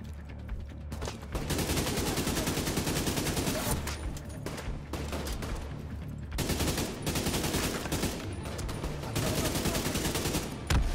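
A minigun in The Division 2 unleashes sustained, dense rattling bursts of rapid fire, loud and continuous for several seconds at a time with brief pauses between volleys, amid game combat noise.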